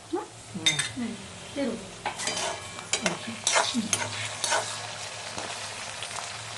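A spoon scraping and stirring mango rice frying in a pan, repeated clinks of metal on metal over a steady soft sizzle, close and without talk.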